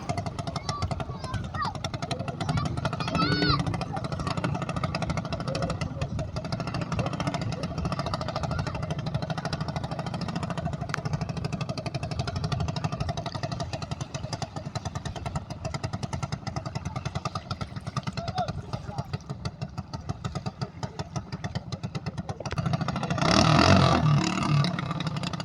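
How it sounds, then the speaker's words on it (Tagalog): A racing boat engine at the Mamatid Bangkarera boat race festival runs with a steady rough motor drone throughout, loud and close, with people talking over it and a brief louder burst near the end. "Pinandar ng makina."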